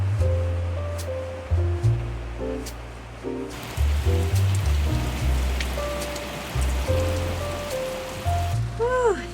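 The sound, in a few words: heavy rain falling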